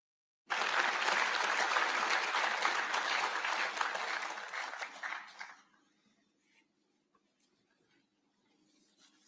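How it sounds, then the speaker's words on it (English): Dense applause from a university graduation crowd in Nairobi, a steady wall of clapping for about five seconds that thins quickly into scattered claps and quiet hall ambience. "One more round of applause for the VC."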